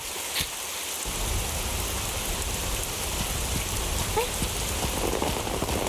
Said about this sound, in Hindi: मुझे बारिश की आवाज बहुत पसंद है।